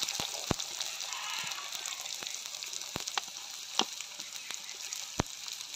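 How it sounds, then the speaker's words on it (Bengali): Chopped garlic and onion fry in white oil in a pan for egg pasta, giving a steady close sizzle with scattered sharp pops and crackles throughout. "এবার দিয়ে দেবো পেঁয়াজ কুচি।"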